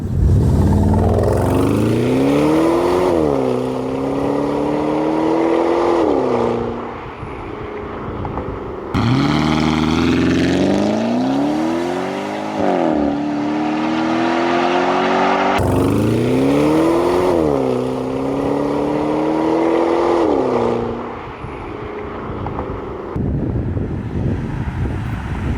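Porsche Cayenne Turbo with a new exhaust revs in three long, loud climbing pulls that settle back each time, with wind buffeting the microphone.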